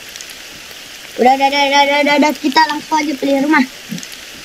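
A steady hiss of video game rainfall runs underneath as a person speaks over it in the foreground.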